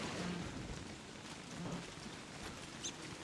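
Rainfall in the video game Don't Starve Together, a faint continuous hiss of patter and drops with a soft low rumble underneath, steady throughout.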